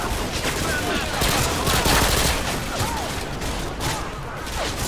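Machine gun fire in the video game Call of Duty 3, a dense, continuous rattle of automatic shots that stays loud and close throughout, with overlapping battle noise and bursts of gunfire filling the whole stretch.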